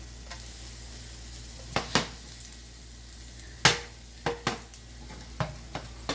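Thinly sliced chicken dropped into a hot pan for a stir-fry with mixed vegetables over high heat, a low sizzle beneath a handful of sharp metallic clinks and scrapes spaced irregularly, nearby with no speech.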